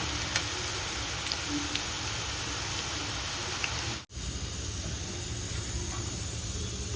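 Chicken 65 sizzles steadily in hot oil in a home kitchen pan as it is stirred, a continuous close frying hiss with a brief dropout partway through and no talking.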